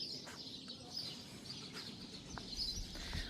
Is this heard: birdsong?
yes